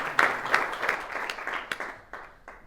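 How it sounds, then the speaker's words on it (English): A crowd at a public executive-order event gives a round of applause, loud rippling clapping with distinct sharp claps that gradually thins out toward the end. "Otro aplauso, por favor."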